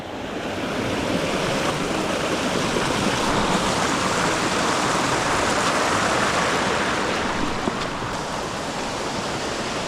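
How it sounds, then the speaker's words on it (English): Clear mountain water in New Hampshire's White Mountains cascades over rocks into a pool, a steady, loud, close rushing roar that holds unbroken for about ten seconds with no voices. "watch the water as it cascades over the rocks and fills up a pool"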